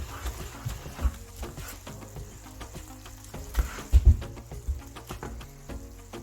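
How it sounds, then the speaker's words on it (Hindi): Karak sohan halwa is roasted and stirred in a pan, a steady low sizzle under repeated scraping and stirring strokes, with a few louder knocks of the spoon near the end. "बस इसी तरह हम इसको भूनते जाएंगे।"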